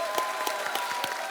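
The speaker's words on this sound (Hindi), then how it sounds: "एक बार जोरदार तालियां।" A studio audience at a comedy talk show applauds, a brief burst of bright, steady clapping.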